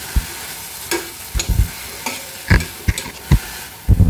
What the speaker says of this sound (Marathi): हिंग आणि हिरव्या मिरचीचं वाटण तेलावरती परतून घ्यायचं आहे आणि मेथी घालून चांगले तेलावरती परतून घ्यायचे आहे